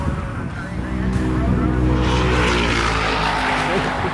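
Buick Cyclones and Typhoons racing past at a drag strip during the Buick GS Nationals, a loud engine roar building and staying steady as the cars pass nearby.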